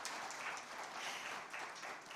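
An audience at an evening awards ceremony applauds the arrival of a government minister, with steady, dense clapping holding at an even level throughout and no speech over it.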